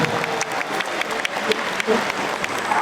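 A crowd at an Amanat Indonesia political gathering applauds, steady close clapping with some sharper individual claps throughout a brief stretch.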